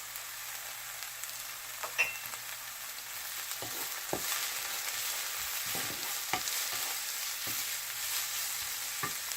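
Vegetables with carrots sauté in a pan for turkey meatloaf, giving a steady, even sizzle with occasional stirring scrapes and taps, close and moderately loud.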